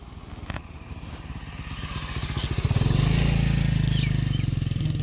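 A motorcycle passes along a lane in a Punjab village, its putting engine approaching and swelling to a loud, close roar before holding steady.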